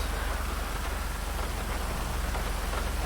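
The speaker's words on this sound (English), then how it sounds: "Got a little bit of rain, but looks like the rain is clearing up." Rain falls in the video game GTA Online as a constant broadband hiss of drops on surfaces, steady and fairly even, with a low rumble underneath that could be an idling vehicle.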